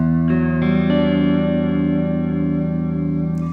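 A sustained electric guitar chord through a Chase Bliss Audio Warped Vinyl MKII pedal set to sine-wave modulation, with a slow, wavering pitch-warble, loud and close, ringing out alone after a few strummed attacks.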